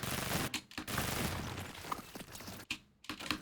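Rapid bursts of gunfire from a Fortnite solo match, crackling shots and impacts clustered over a few seconds with brief gaps, loud and close against dense game noise.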